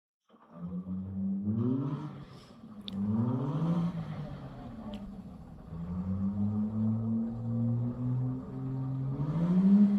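Race car engine at the Bonneville Salt Flats during Speed Week, revving hard in a series of rising and falling pulls, loud and fairly near, with a rougher growl near the end.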